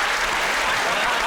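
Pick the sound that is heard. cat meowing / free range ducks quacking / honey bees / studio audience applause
studio audience applause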